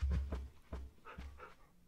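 A dog in the video game Minecraft pants in a few quick, close breaths, short and fairly quiet.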